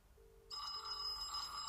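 A phone rings: two soft, steady ringback tones, then a brighter electronic ringtone that starts halfway through and carries on to the end.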